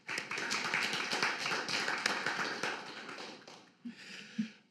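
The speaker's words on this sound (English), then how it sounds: "Big round of applause for this team" Applause for a team at an AI presentation: a crowd claps densely for several seconds, then the clapping fades to a few scattered claps.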